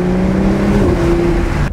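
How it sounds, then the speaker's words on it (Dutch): A car with an Akrapovic exhaust revs and accelerates loudly and steadily with a throaty sport exhaust tone, close by, cutting off abruptly at the end. "Deze heeft Akrapovic. En dat is een uitlaatsysteem. En die klinkt best wel lekker."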